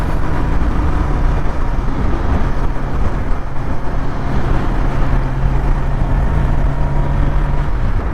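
A motorcycle engine drones steadily while riding, a loud continuous low hum with wind noise and no clear changes in pace, no voices over it.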